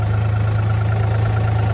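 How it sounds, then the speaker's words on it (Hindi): A tractor engine runs steadily near a field where ploughing is under way, a loud continuous low idling hum with a regular throb and no break. "तो प्लाऊ वाला ट्रैक्टर अभी चल ही रहा है भाई।"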